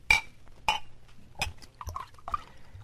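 Liquid is poured into a glass at a saloon bar in a 1952 Western radio drama, in several short splashy bursts with a faint clink, close and fairly quiet, with no talking.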